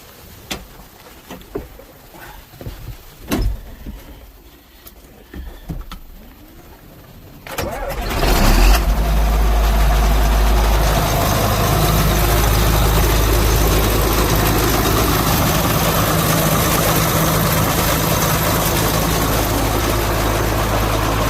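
A 1984 John Deere 4450 diesel tractor engine cranks and catches, then settles into a loud, steady idle with a deep low rumble that continues without a break.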